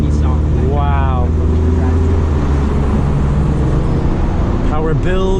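A 2001 Mitsubishi Eclipse Spyder accelerates hard from first gear, its engine drone loud and steady with a rising tone as revs climb, heard from inside the car with brief speech at the start and end.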